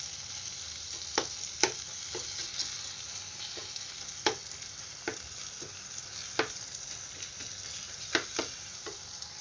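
Tomatoes being mashed and stirred in a frying pan for a Kerala-style prawn roast, with a low continuous sizzle broken by a dozen or so sharp scraping taps of a spoon against the pan at irregular intervals, close by and without speech.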